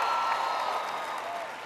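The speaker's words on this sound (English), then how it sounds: "Clap if you know him." Audience applause at a college commencement speech, a steady wash of clapping from a large crowd that holds level for under two seconds and tapers slightly at the end.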